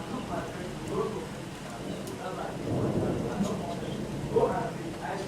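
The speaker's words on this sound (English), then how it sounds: "one is thunder and lightning" A thunderstorm with steady rain in Hamm, Germany: continuous rain hiss and low rumbling thunder rolling through, a louder crack near the end, with a voice speaking faintly underneath.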